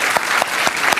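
A studio audience applauds at a televised news debate, steady dense clapping with a rhythmic pulse of louder claps, close and continuous throughout.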